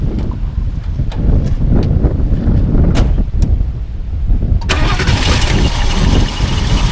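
A 1972 Lincoln Mark IV with a 460 four-barrel V8 cranks and fires, then settles into a steady rumble. Heavy wind buffets the microphone throughout, and a brighter roar of the running engine takes over in the last couple of seconds.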